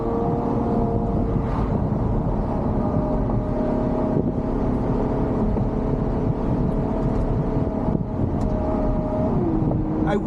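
A Ferrari GTC4Lusso drives along, a steady low engine drone and road rumble heard from inside the cabin, with a faint tone shift as the revs change.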